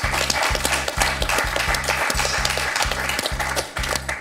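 A TV game show studio audience applauds a contestant in rapid rhythmic unison clapping, about two claps per second, loud and close throughout with no talk over it.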